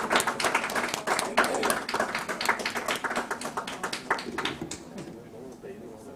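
Audience applause at the Nepal Investment Summit 2024 ceremony, dense clapping that swells at once and rolls on steadily before thinning out toward the end, with some voices murmuring underneath.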